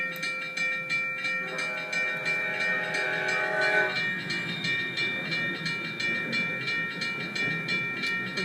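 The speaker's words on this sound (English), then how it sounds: "This Amtrak, here comes an Amtrak." Amtrak Superliner passenger train passing through a station in a train simulator, steady rolling rumble with rhythmic wheel clatter and a sustained horn blast near the start.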